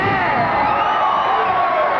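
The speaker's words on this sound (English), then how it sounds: "Deno Blade has got this crowd on fire." A pro wrestling crowd in a small venue roars and cheers continuously, a loud sustained wall of shouting with whoops rising through it.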